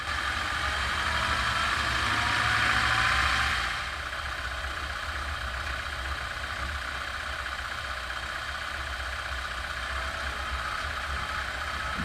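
A car drives along a road through Luss near Loch Lomond, with a steady engine and road drone that eases slightly after a few seconds, then holds at an even level.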